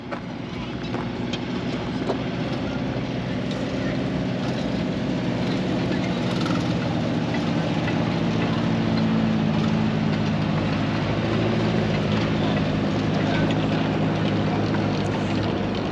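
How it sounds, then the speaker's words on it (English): The Islander train rumbles past on Hayling Island's seafront, a steady broad, close rolling noise mixed with wind that lasts the whole stretch without a clear start or end. "Ah, here is the train, the Islander."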